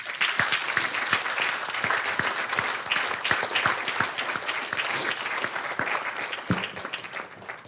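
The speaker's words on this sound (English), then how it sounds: "I want a round of applause for all the people that have served our village's families" A village board meeting audience in Morton Grove gives a round of applause, a loud, dense stretch of clapping with sharp individual claps standing out, sustained for several seconds and easing slightly at the end.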